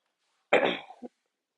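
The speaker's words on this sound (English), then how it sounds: "My nasty cough." A single harsh cough, close and loud, followed by a short second cough-like burst, then silence.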